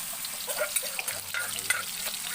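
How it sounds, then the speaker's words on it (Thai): Chilies fry in hot oil for a Thai basil beef stir-fry, giving a steady, close crackling sizzle with small pops throughout. Nobody talks over it. "ให้น้ำมันร้อนนิดนึงครับ จะได้ พริกจะได้หอมๆครับ"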